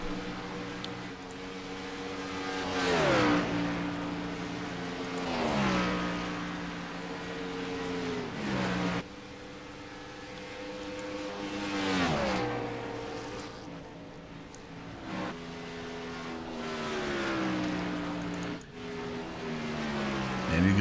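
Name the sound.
race cars racing at Atlanta Motor Speedway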